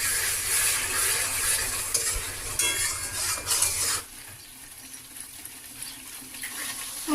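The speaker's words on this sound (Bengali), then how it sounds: "এখন এর মধ্যে সামান্য পরিমাণে জল দিয়ে আমি মশলাটাকে কষিয়ে নেব।" Spices with turmeric, Kashmiri chilli powder and salt fry in a pan with a little water for chicken and potato curry, a close, steady sizzle under spoon scraping that drops to a quieter simmer partway through.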